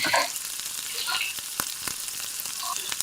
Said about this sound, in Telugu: ఆ కాకరకాయ వండుదామని నూనె పోసుకుంటున్నానండి